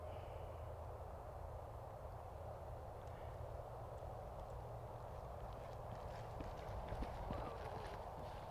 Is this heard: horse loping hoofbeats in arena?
yes